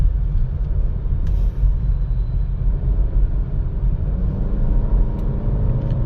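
Honda Elevate CVT car engine in sports mode heard from inside the cabin while driving in traffic, a steady low droning rumble throughout with faint brief chirps above it.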